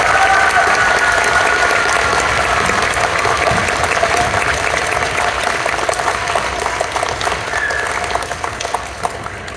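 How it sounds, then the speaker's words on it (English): Sustained audience applause at a Heartland Elementary School celebration honoring an ExCEL award winner, steady dense clapping that fills the whole stretch and tapers slightly toward the end. "Please join me in giving them a round of applause."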